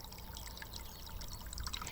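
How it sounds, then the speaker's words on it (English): Fresh spring water spills steadily down a rock cliff face by a coastal pond, a continuous splashing trickle at moderate distance with no voices. "a constant influx of fresh water cascading down the cliff face and flowing overland before reaching the pond"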